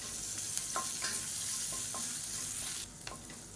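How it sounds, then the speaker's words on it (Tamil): Three finely chopped small onions sauté in a pan for a chutney, a steady soft sizzle with a few scraping stirs, quiet and close, no voices. "இதையும் சேர்த்து நல்லா வதக்கி விட்டுக்கலாம்."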